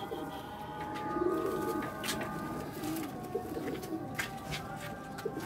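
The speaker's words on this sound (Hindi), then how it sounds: "30 परवाजी कबूतर हैं जी" Pigeons coo softly and repeatedly at a loft holding thirty high-flying Pakistani flying pigeons, with other bird chirps and steady background noise around them.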